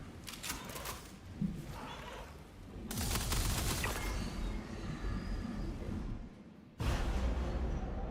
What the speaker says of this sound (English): Radiation booms.